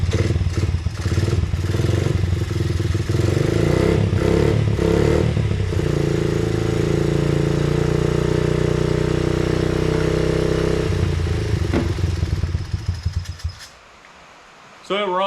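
A Honda CRF50 pit bike, an early-2000s build, runs with the choke off, its small engine chugging loud and close with irregular clatter, then stumbling and dying near the end instead of settling to an idle.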